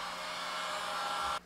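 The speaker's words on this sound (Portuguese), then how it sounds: "Eu passo o secador, ou o soprador térmico, né?" Heat gun blowing steadily on vinyl wrap being applied to a stove, a close, even whooshing hum that cuts off abruptly near the end.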